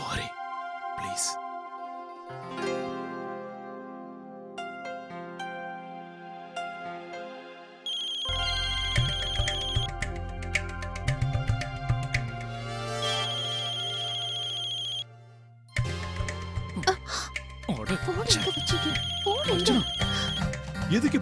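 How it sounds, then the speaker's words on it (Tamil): A mobile phone rings in a household scene, its electronic ringtone melody repeating loudly for a long stretch. "அதான் ஏற்கனவே மொபைல் சத்தம் போட்டு கத்துது."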